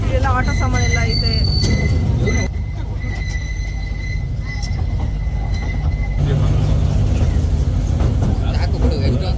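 A train at a railway station on a day trip to Mysore, heard as loud continuous rumbling of rolling wagons with squealing wheels and tonal screeches, steady throughout with people talking nearby.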